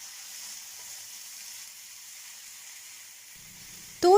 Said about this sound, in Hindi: बस इसको जो है मैं हाई फ्लेम के ऊपर 2-3 मिनट के लिए स्टर फ्राई कर लूँगी